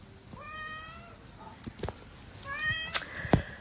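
A village cat meows twice, two drawn-out meows about two seconds apart, fairly close, with faint room noise and some brief knocks in between.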